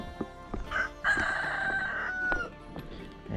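A rooster at a small farm that also keeps pigs and ducks crows once at a moderate distance, and the long call rises over faint clucking and scattered background knocks.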